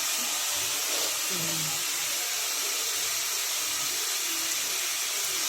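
Tomatoes with rock salt sautéing in a pan, a steady bright sizzle and hiss throughout, close and even, with faint low clinks beneath.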